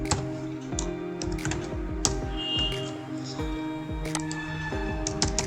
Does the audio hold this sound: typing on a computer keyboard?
yes